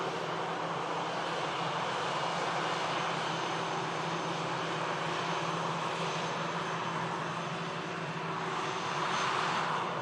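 Airliner taxiing for departure at Manchester Airport during a storm, a steady broad engine roar and whine, distant and unbroken, swelling slightly near the end, with no voices.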